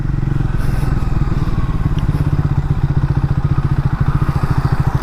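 A Triumph Speed 400 motorcycle engine chugs at low speed in second gear, giving a steady, close, loud stream of rapid low thumping pulses that carries on throughout.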